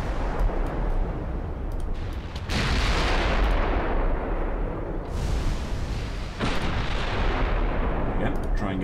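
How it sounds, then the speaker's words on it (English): Battleship guns firing in the naval game Ultimate Admiral Dreadnoughts: heavy booming salvos that roll into long rumbling tails, several overlapping blasts in close succession. "Battleships are engaging."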